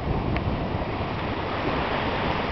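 Ocean waves wash steadily behind a moving sailboat during an offshore race to Bermuda, a continuous rushing surf mixed with wind noise and no talk.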